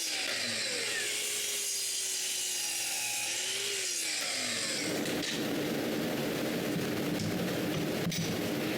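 A saw cuts wood blocks for a transformable dresser in a workshop, first with a rising and falling whine, then with a dense, steady rasping that runs on to the end.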